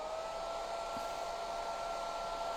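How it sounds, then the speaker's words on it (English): A hairdryer blows on wet paint over a stencil, a steady high whine with constant airy rush, close and unbroken throughout. "I might hit that with a hairdryer"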